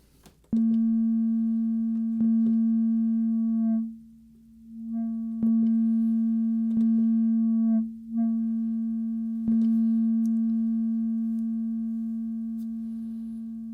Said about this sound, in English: filtering out a sine wave isn't very interesting at all